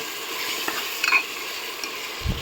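Chicken frying with tomato and spices for pulao gives a steady low sizzle while a spoon stirs, with a couple of faint clinks and a soft thump near the end.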